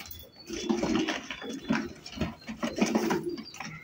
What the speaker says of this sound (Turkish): Ana 18 ta kaptar bor ekan